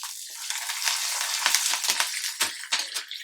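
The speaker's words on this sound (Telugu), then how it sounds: "పోపు అన్నది మంచి గోలితేనే మంచిగా ఉంటుంది." Tempering spices, with dried red chillies and curry leaves, fry in oil over a low flame for onion rice. A steady crackling sizzle runs throughout, with a few sharper pops near the end and no voices.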